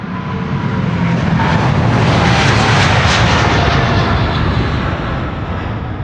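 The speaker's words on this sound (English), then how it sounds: "Singapore is going to be taking the wrong runway, but we should be able to see its departure from here quite well" Singapore Airlines A350 taking off from a runway at Amsterdam Schiphol Airport, a loud, close, broad engine roar that swells steadily and holds throughout, with no other sounds.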